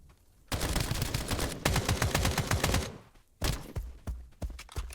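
Enemy gunfire from a boss in the video game Escape from Duckov rings out in loud, rapid bursts, first a long sustained volley and then several shorter bursts separated by brief pauses.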